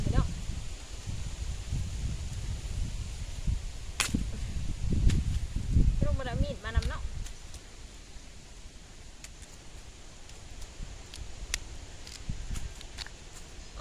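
Steady outdoor wind noise rushing across the mic, with rustling and a few sharp knocks and brief sounds mixed in.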